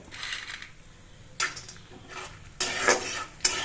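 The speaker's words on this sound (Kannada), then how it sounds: "ಕಡಲೆ ಬೀಜ ಚಟಪಟ ಅಂತ ಹೇಳಿ ಚಟಪಟ ಆಗ್ತಾ ಐತೆ" Peanuts fry in hot oil in a pan for churumuri, crackling and sizzling in short, soft bursts with quiet gaps between them.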